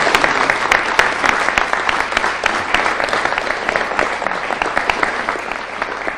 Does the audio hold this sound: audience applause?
yes